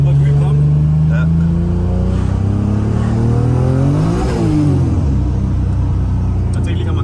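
The 1000 hp Black Widow Toyota Supra revs hard during a grip test at the Nürburgring. Its loud, close engine note climbs, peaks and falls away in one rev sweep over a constant rumble.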